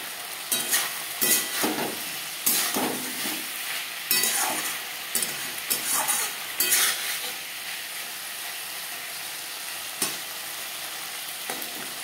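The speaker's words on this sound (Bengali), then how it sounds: "হাই টু মিডিয়াম ফ্লেমে 1-2 মিনিট নাড়াচাড়া করে দেব" Vegetables and katla fish curry are stirred in a pan over a high flame, with a steady sizzle broken by repeated scraping strokes and clattering bursts of the spoon, heard up close with no talking.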